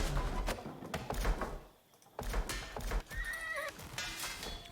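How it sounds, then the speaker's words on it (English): A horse in the Age of Empires IV video game gives a loud, shrill whinny that rises and falls over about two seconds, mixed into busy game sounds of hooves and clatter. "It's a noisy horse."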